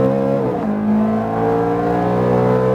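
A Ferrari F430 engine pulls hard at full throttle on a track, its steady rising roar loud and close throughout with a brief dip near the start, no voices.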